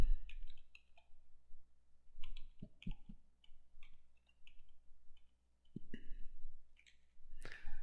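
A computer mouse clicks sharply and close by, in a handful of sparse, irregular single clicks separated by quiet gaps, with no voices.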